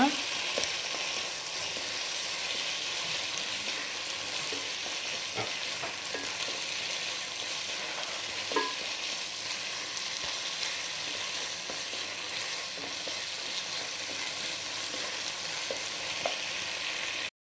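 Lentil dal for a Telangana-style curry fries in hot oil while being stirred, giving a steady, continuous sizzle with small scraping clicks throughout, no voices.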